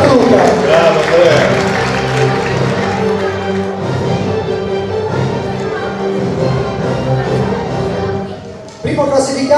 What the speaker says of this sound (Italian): Un applauso lo farei ad Andrea Bertù, che è il nostro regista.